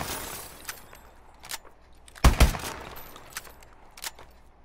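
Lever-action rifle speed reload in Call of Duty Advanced Warfare: a run of sharp metallic clicks and clacks, with a loud double snap in the middle and lighter mechanical ticks around it.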